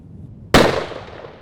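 A single sharp rifle shot cracks out loud and close during elk hunt target practice in a light left-to-right wind, its report decaying over about a second against quiet outdoor background.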